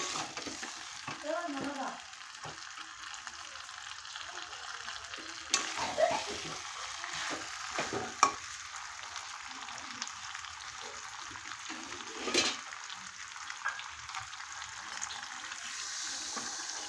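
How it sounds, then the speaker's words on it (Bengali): Goat meat curry with potatoes sizzles in a pan, with spoon scraping and stirring and a few louder splashing bursts as water is poured in, fairly quiet and close, no voices. "এখন আমি জল দিয়ে দেবো"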